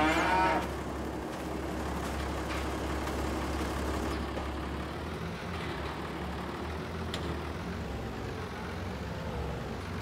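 Cows moo in Farming Simulator 22, with several drawn-out calls over a steady low drone of farm machinery. The sound runs continuously at moderate loudness, with no talk.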